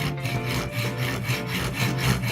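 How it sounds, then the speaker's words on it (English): A hacksaw cuts through a metal rod for a blaster display stand, steady rhythmic back-and-forth rasping strokes, close and continuous with no talking. "I'm just going to use a hacksaw to cut it off"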